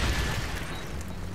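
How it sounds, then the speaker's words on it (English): A grenade goes off in Call of Duty, a loud low boom that fades into a rumbling tail over a little more than a second. "There's a freaking grenade over there."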